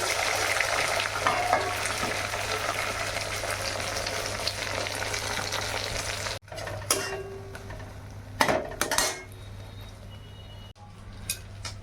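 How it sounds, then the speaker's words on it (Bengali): An egg omelette fries in a pan with a steady, bright sizzle and a low hum beneath. The sizzle fades partway through, leaving a few clinks and scrapes of a utensil against the pan. "এই যে ডিমের অমলেটটা আগে করে নেব"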